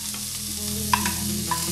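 Fruit boils in a pan in a cooking-competition kitchen, giving a continuous close bubbling and sizzling hiss with a couple of faint clinks. No voices are heard.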